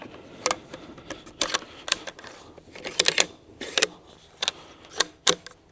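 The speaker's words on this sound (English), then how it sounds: "let me get the bolt in here" Stevens 334 bolt-action rifle in walnut, its bolt being worked and inserted: a series of sharp metallic clicks and clacks at irregular intervals, close and fairly loud, with no talk.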